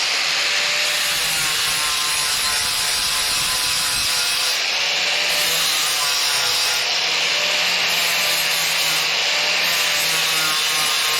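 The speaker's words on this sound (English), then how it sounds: "get it all leveled with just a sanding bit" Steady, loud abrasive sanding as a sanding bit levels wood on a knife build, a continuous gritty rubbing with a faint high whine running throughout, no voices.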